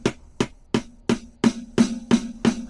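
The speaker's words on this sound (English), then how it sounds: "Then we have the snare." A snare pad on a Donner DED-500 electronic drum kit is struck eight times at an even pace, each sharp hit ringing briefly with a tonal body, heard alone and fairly close.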